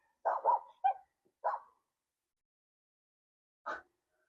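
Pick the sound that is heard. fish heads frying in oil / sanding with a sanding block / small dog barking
small dog barking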